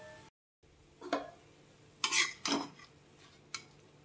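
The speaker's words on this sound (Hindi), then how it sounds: "साग को एक बर्तन में निकाल लेते" Cooked amaranth (chaulai) greens are scooped out of the cooking pan into a pot after the gas is turned off, giving a few separate metal spoon scrapes and clinks against the vessels, with no talking.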